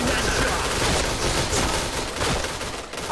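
STG44 rifle fire in the Point Blank video game crackles in dense, rapid bursts, loud and continuous, blending with the clatter of other gunfire.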